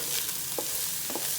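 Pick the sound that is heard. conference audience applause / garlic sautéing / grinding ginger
garlic sautéing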